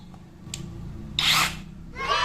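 Cordless impact wrench fitted with a new replacement battery, test-run in two short loud bursts of motor whir, preceded by a faint click, close to the microphone.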